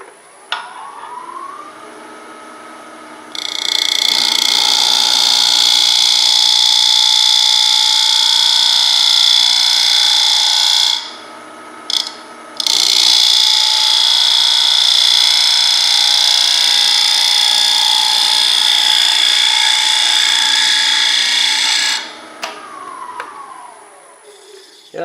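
A wood lathe gouge cuts an ash bowl in the calabash style, giving a steady high, whining hiss that runs loud and unbroken for long stretches, with one brief pause partway through and quieter gaps before and after.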